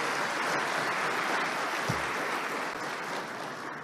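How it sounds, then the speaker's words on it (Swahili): An audience applauds continuously at a speech before President Samia, a dense wash of clapping that holds steady and fades slightly toward the end. "Tuwapige makofi NBC."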